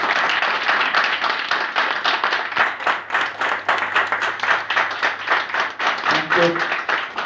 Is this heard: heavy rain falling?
no